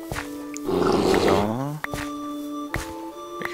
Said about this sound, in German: Ich höre da schon wieder einen Bär.